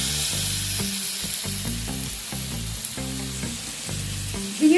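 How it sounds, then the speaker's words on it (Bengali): Ridge gourd frying over high flame in a pan, a steady loud sizzle with repeated stirring scrapes and clatters throughout, no voices. "তাই হাইতে রেখেই ঝিঙেটাকে নাড়াচাড়া করে নেব।"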